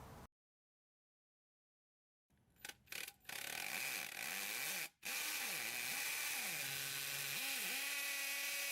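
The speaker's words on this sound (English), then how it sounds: "Now you've got the right depth for your anchor hole and you're ready to drill." After a silence, a power drill starts with a few short bursts, then runs loudly, its whine rising and falling as it bores an anchor hole into the surface.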